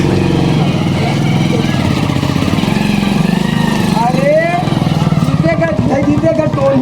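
A motorcycle engine runs loud and steady throughout with a continuous droning rumble, and a man calls out briefly near the end.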